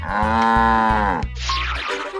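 Comic cow moo sound effect from the You Don't Know Jack video game, a loud, long sustained bovine moo that ends abruptly, followed by brief quirky game noises.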